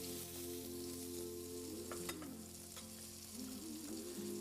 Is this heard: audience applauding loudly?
no